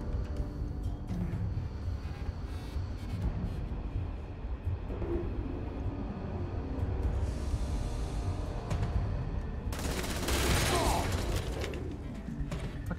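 Gunfire and combat noise from the Starfield video game rumble and crackle continuously, with a loud harsh burst near the end, and voices talk briefly over it.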